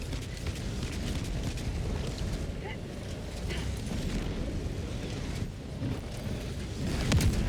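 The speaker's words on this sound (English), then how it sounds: "Firing orbital barrage" Orbital barrage in Helldivers 2 churns as a continuous, dense, low rumble of distant explosions and booms, steady for several seconds and swelling slightly at the end, with faint talk underneath.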